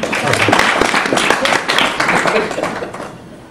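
An audience claps in a short, dense burst that carries on for several seconds, fairly loud and close, with voices mixed in.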